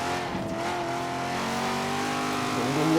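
A sports car engine in Forza Horizon 3 holds a loud, steady racing drone that climbs in pitch near the end, a continuous close-up revving tone with no talking.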